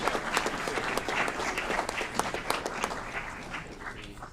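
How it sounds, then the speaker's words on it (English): Audience at a city committee meeting applauds, moderate clapping with individual claps audible in an uneven rhythm, tapering off toward the end. "Another round of applause for Dr. David Ballard, Dr. Adrian Talley."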